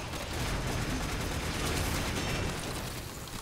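Telos Boltor firing in Warframe, a dense, continuous stream of rapid gunfire that stays steady and loud the whole time with no talking over it.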